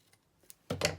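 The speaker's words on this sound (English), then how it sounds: "then I'll cut this off" Scissors snip through recycled packaging card in a quiet room: a couple of faint ticks, then one loud, close crunching cut that trails off.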